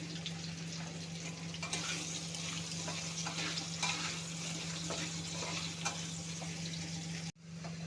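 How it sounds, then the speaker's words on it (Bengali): Potato pieces frying in hot oil with salt added give a steady, close sizzle and crackle for the whole stretch, with light stirring scrapes, over a low constant hum, briefly cutting out near the end. "আলুটা ভাজা হয়ে গেছে"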